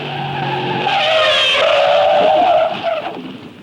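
A race car spins out in a corner after power comes on too early, its tires skidding in a loud, sustained squeal for about three seconds before it fades, with engine noise underneath.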